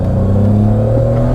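A BMW M3 engine holds a loud, steady high-rev drone, close and unbroken, with a strong buzzing tone and no voices over it.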